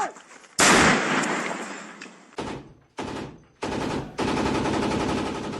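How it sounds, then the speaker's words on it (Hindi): A light machine gun fires in battle near Bakhmut: a loud, dense burst of rapid shots comes first, then several shorter bursts follow one after another with brief gaps between them. "जो एलएमजी लाइट मशीन गन से अटैक किया जा रहा है"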